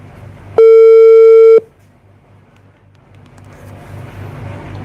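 A single steady electronic telephone tone sounds for about a second, loud and clean, then cuts off, leaving low rumbling background noise with faint traffic-like hiss.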